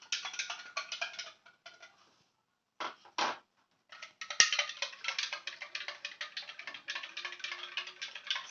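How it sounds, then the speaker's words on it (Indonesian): Spoon stirring salt into water in a bowl or pot, close scraping and clinking in bursts with brief pauses, quiet and without talk. "Kita aduk seperti ini biar sampai larut"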